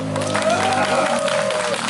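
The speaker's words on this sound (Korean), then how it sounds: "박수 한번 해주십시오" Applause from a festival crowd on a wedding street rises under a sustained tonal hum, fairly loud and continuous with a faint cheer mixed in.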